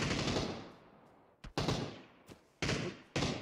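Gunshots in a video game ring out as a handful of sharp, separate cracks, each followed by a fading echo, with quiet gaps between them.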